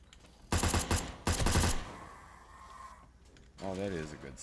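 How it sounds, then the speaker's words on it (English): Micro SMG fire in the video game 7 Days to Die comes in two short, loud rapid bursts, followed by a quieter stretch before a voice speaks at the end. "Should check out the micro SMG."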